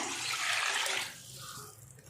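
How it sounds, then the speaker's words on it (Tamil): Water poured into a pot of chicken dum biryani, a steady rushing splash that fades and thins after about a second, quiet with no talking. "இப்போ இதில் தண்ணி சேர்த்துடலாம் 3 டம்ளர் தண்ணி சேர்க்குறேன்"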